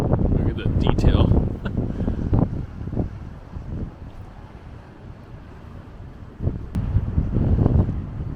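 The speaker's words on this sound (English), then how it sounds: "We're getting the last of the storm wind coming through" Gusty storm wind buffets the microphone on a coastal hike at a California beach, roaring loudest at the start and end with a calmer stretch between; a voice speaks briefly.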